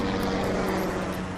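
The Cougar 91 helicopter descending in flight over the Atlantic near St. John's, a steady droning engine and rotor hum with a low pulsing beat, loud and continuous with no talk.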